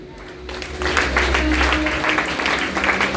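Applause from a church congregation during a sermon, a steady spread of clapping that fills the space and carries on unbroken under soft background murmur.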